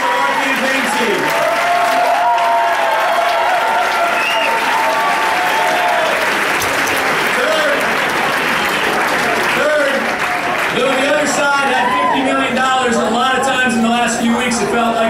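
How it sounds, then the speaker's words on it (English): Crowd at a political victory speech bursts into loud, sustained applause lasting the whole stretch, with cheering voices mixed into the dense clapping. "Give a big round of applause for our campaign team."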